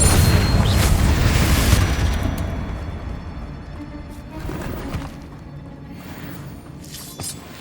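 Confringo fire spell blasting in Hogwarts Legacy, a loud booming explosion with shattering debris that fades, followed by a few further fainter bursts.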